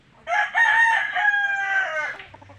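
A backyard rooster crows once nearby, a loud drawn-out call of about two seconds with a rising start and a fading, wavering end.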